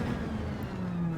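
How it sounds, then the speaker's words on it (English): Racing car in Gran Turismo 7 held high in fifth gear, a strained, sustained engine drone with a steady pitch, loud and continuous for the brief moment, with no talk. "Now it does sound like the car's going to explode, but staying in 5th is faster."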